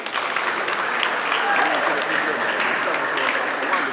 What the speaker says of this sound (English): Keep on clapping for yourself.